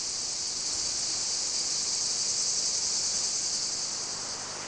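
Dense, steady cricket chirping fills a hillside of terraced olive groves in the Aegean-like setting, a continuous high shimmering drone that stays even and unbroken, with no voices heard.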